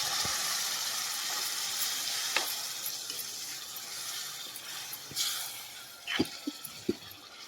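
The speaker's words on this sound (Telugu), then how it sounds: "నీళ్ళు అయితే పోయి వేసుకుంటున్నాను మంచి నీళ్ళు కూరలోకి." Water is poured into a hot drumstick and tomato curry, bringing a broad hiss of steam and sizzle. Scattered drips and splashes grow more frequent toward the end, with no talking.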